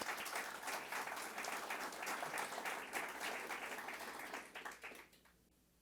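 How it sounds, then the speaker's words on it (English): Sustained audience applause at a climate workforce event in New York City, a dense steady clapping from a large crowd that fades out near the end. "So round of applause for you."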